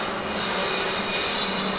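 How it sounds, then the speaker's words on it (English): A jet dryer clearing absorbent off the oval during a caution at the 1996 Indycar US 500 roars as a steady, broad whoosh with a faint high whine, continuous and even throughout. "Ride with Christian Fittipaldi, passing the jet dryer that blows the speedy dry off the track after it's been laid down to absorb all the fluid on the track."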